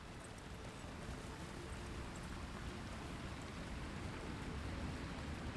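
Heavy rain falls steadily in a game setting, a soft, continuous, distant hiss of drops without any voices.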